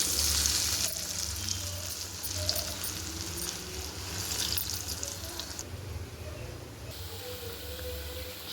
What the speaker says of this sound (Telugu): నూనెలో బాగా వడకరికి బోండా మరి వేగిపించుకోండి బాగా